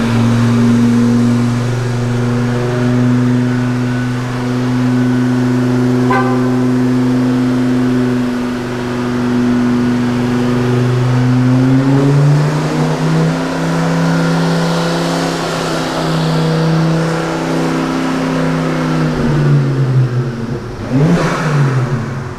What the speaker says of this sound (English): we'll jump onto the dyno now, and it's all set up ready, so we'll get on it and see how we get on